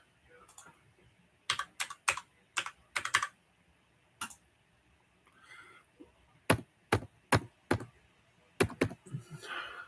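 Someone types on a computer keyboard in short bursts of crisp key clicks, separated by pauses, close and moderately loud.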